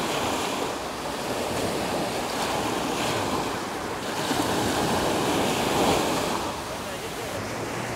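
Sea waves surge and wash continuously around a camera tripod standing in the surf on a seashore, a loud, steady roar of breaking water with gusts of wind noise rumbling across the microphone.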